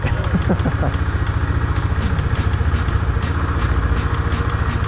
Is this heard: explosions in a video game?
no